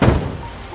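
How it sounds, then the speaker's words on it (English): A zombie in Project Zomboid beating on a car: one dull, heavy thump against the metal body, close and loud, then a short fading resonance. "Sir, quit beating on my car."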